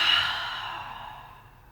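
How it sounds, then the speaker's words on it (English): A single deep exhalation during a yoga session, a breathy sigh that starts strong and fades steadily over under two seconds, close and alone with no talk. "Take the biggest breath you've taken so far today."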